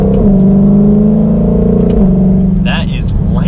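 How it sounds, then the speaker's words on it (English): A Ford Mustang Shelby GT500, 2020-2023 model, accelerating hard, its engine note climbing steadily then dropping sharply at a quick gear change, loud and close inside the cabin, with a brief exclamation near the end. "As soon as you hit the pedal, you're already into the next gear."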